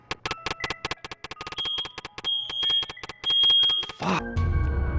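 Fire alarm in the horror video game FNAF 3: a rapid train of sharp electronic beeps, then longer sustained alarm tones, closing with a sudden noisy burst.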